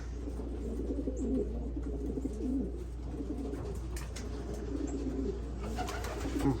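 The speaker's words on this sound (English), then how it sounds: "I'm glad all the birds are back in here." Racing pigeons cooing inside their loft, several overlapping soft throaty coos repeating in a steady rhythm over a low constant hum, close by and moderately quiet.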